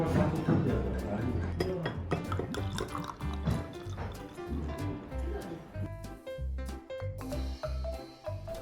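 Beer is poured into a glass at a traditional ryokan inn dinner in Ginzan Onsen, Yamagata, a close, continuous liquid gurgle and fizz with occasional light clinks of glassware.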